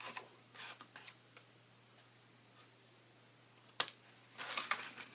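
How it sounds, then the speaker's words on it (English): Scissors trimming off extra paper on a handmade Christmas tree box, a few faint, sparse snips and rustles in a quiet room with a sharper burst of cutting near the end. "I'm just going to take my scissors, and I'm going to just cut all that extra off."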